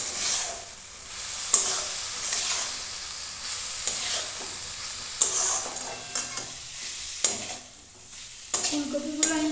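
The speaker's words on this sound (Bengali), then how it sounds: "এই সব কিছু দিয়ে ফুলকপিটা কষে নেবো, যাতে কষতে কষতেই আর কি এই ফুলকপিগুলো সেদ্ধ হয়ে যায়।" Cauliflower stir-fried with spices in a pan gives a steady soft sizzle, broken by repeated scraping and clattering stirs from a utensil, heard close and alone.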